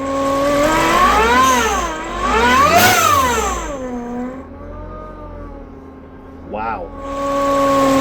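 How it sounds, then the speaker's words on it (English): Eaton MP45 supercharger on a Mazda 1.8 VVT engine whining loudly as the engine revs up and falls back several times, the pitch climbing and dropping with each rev before a brief final blip. "That supercharger is loud."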